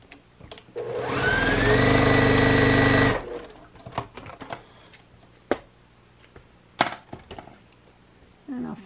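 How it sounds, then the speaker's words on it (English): A sewing machine stitches fabric pieces onto the end of a quilt row in one steady, loud whirring run of about two seconds, then stops, leaving quiet handling noises and small knocks. "And I will just sew them onto the end here."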